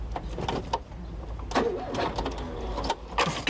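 A car engine cranks and struggles to start, a rough, uneven chugging that surges and drops over a few seconds, close and fairly loud with no clear voices.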